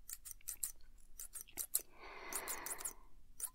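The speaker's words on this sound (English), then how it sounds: "with a quick, triumphant snip, he severed the ribbon" Thin scissor blades snipping through a black velvet ribbon, a run of crisp, close metallic clicks and cuts in quick bursts, with a soft brushing rustle in the middle, heard alone in a quiet setting.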